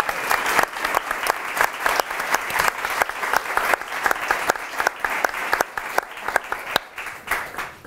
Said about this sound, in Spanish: Un fuerte aplauso, por favor, para Rafael Ramírez